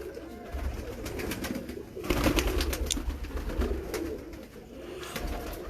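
Sialkoti pigeons from a long-kept breed coo repeatedly at close range, soft throaty calls overlapping in steady rhythm over a low background rumble, with no talk.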